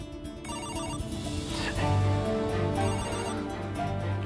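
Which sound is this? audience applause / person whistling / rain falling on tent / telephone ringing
telephone ringing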